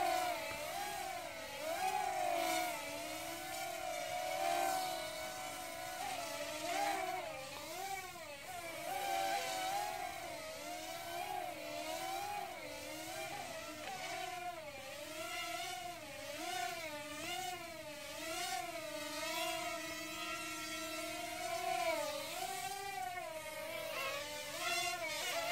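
A small, light Hubsan X4 Plus H107P quadcopter hovers in wind, its tiny motors giving a steady high-pitched whine that rises and falls continuously as the throttle changes.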